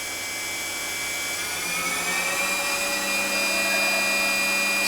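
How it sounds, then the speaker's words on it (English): Spindle of a used Fadal 6030 HT vertical CNC machining center spinning at about 6,500 rpm, a steady high-pitched whine with tonal hum, heard up close and continuous with no talking. "Let you get close to that, you can hear how nice the spindle sounds."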